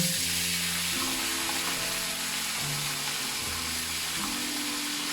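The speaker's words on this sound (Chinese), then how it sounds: "油热后将腌制好的五花肉放入锅中" Marinated pork belly sizzles in hot oil in a wok, a loud, continuous frying hiss with no talk, while a soft melodic music bed plays underneath.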